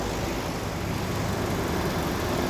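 A white 2013 Hyundai Avante with a 1.6 engine and manual gearbox idles with a steady, even hum and broad hiss that holds a constant level throughout, with no voices heard.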